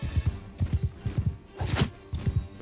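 A horse gallops in the medieval battle game Mount & Blade II: Bannerlord, its hooves drumming in quick, regular clusters of beats. A brief louder, sharp burst breaks through midway, with no voices.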